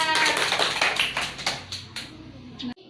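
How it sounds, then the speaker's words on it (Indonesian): A class of fifth-grade pupils claps for a classmate after her turn at the front, a dense burst of many small hands that rings out and thins toward the end, with a sharp stop just before the close. "Tepuk tangan untuk Mbak Alia."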